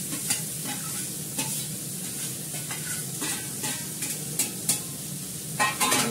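Small pieces of papaya sizzling in a frying pan as a spatula stirs and scrapes in irregular strokes, close and steady with several sharper clinks against the metal, no one talking.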